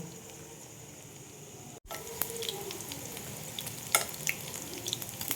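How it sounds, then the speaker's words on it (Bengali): Paneer pieces frying in hot oil, a low steady sizzle with a brief dropout, then brighter crackling pops and spatters growing busier toward the end, no voices. "এইভাবে সব আমি পনিরগুলো ভেজে নেব"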